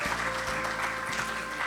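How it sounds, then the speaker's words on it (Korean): Audience applause at an award ceremony for science and technology figures visiting the National Assembly, a dense, steady wash of many hands clapping together, loud and sustained from start to finish. "네, 큰 박수 부탁드립니다."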